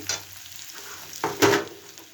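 Chopped garlic frying in oil in a pan, just browned and about to be joined by okra, gives a low steady sizzle broken by a couple of louder stirring scrapes near the end.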